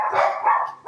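Household dogs barking nearby, a short run of loud, rough barks packed into under a second.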